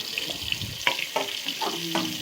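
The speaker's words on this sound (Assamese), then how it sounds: "তাতে মই পিঁয়াজ অলপমান দিলোঁ, ভাজিছোঁ" Sliced onions fry in a little oil in a pan, a steady soft sizzle broken by a few clinks and scrapes of stirring, close and moderately quiet.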